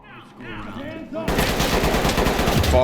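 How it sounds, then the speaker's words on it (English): Sustained automatic gunfire in the tactical shooter Ready or Not erupts after a moment of voices and ambience, a loud dense rattle of rapid shots continuing to the end. "gunfire from across the hall,"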